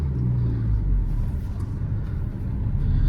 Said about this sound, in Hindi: थोड़ी सी क्लच तो दबानी पड़ी है पर उठ गई गाड़ी।